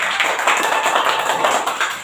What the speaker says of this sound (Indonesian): Coba tepuk tangan dulu semua lainnya.